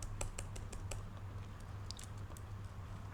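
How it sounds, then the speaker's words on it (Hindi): Someone types a short string on a computer keyboard, a quick burst of close, light key clicks followed by sparser taps, over a steady low hum. "यहाँ नीचे टर्मिनल पे कुछ भी स्ट्रिंग लिख देता हूँ"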